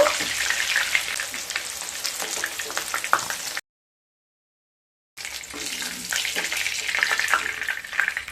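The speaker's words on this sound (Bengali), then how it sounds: "এইভাবে সমস্ত পকোড়াগুলোকে ভেজে নেব" Pakoras deep-frying in hot oil in a pan give a steady, close sizzle with crackling bubbles, broken by a brief silent gap partway through, with no talking.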